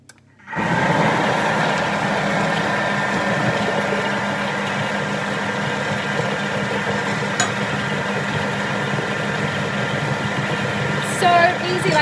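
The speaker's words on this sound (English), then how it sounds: "And then I'm just going to blend it for 15 seconds on speed 5." A Thermomix blending banana bread batter on speed 5, giving a steady, fairly loud motor whir that starts abruptly and holds evenly for about eleven seconds, with a faint clatter near the end.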